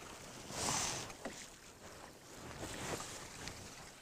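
Quiet oar strokes dip and pull through water from a small rowboat while trout fishing, soft splashes and drips recurring at an unhurried rhythm against faint outdoor wind.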